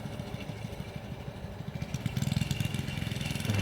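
A Heathkit Boonie Bike minibike's small engine runs steadily after carburetor adjustments, its rapid mid-pitched putter growing louder and more pulsing partway through as it revs up, heard alone with no talking.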